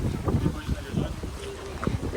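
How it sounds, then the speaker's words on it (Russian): Strong wind buffets and roars across the microphone in gusty low rumbles on a seaside beach path in Odesa, with a voice talking faintly underneath. "Боже, послушайте, какой ветер."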